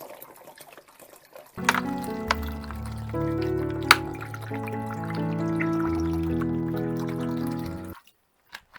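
Water pours steadily into a container of dongchimi radish water kimchi, beginning abruptly with a full hollow gurgling fill that rises in pitch as the vessel fills, then stops suddenly, leaving near silence.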